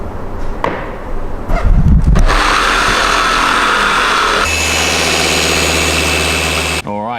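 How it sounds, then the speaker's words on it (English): A rotary buffing machine polishes a scratch out of fresh car paint, with clattering handling noise at first, then a loud, steady whirring drone that holds for several seconds before cutting off. "we go through this stage of buffing the paint to try and get out problems exactly like this"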